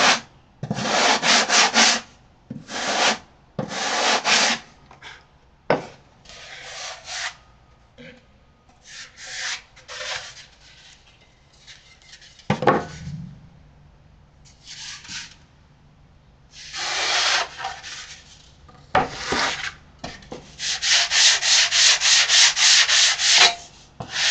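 Bursts of hand sanding on carbon fiber model aircraft parts, short rough scratchy strokes in irregular clusters with pauses between, close and fairly loud.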